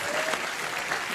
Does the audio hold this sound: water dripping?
no